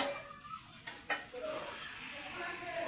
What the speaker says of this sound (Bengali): এখন কড়াইতে দিয়ে দেবো তেল